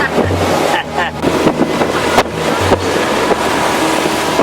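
Strong wind buffeting hard against the microphone while sailing in Greece, with waves and rushing white water around the hull in a loud, continuous roar.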